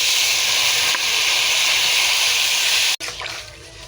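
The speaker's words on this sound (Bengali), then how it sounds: "কষা হয়ে গেছে, এবার জল দিয়ে দেবো।" Water poured into a hot pan of fried fish curry masala sets off a loud, steady steamy hiss that fills the scene, cut by a sharp knock near the end before the sizzle settles lower.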